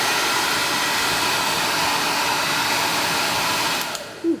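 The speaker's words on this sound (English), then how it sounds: "it's a professional hair dryer" A Dryerpro professional hair dryer runs with a loud, steady blowing whir that holds for about four seconds, then winds down and cuts off with a short click near the end.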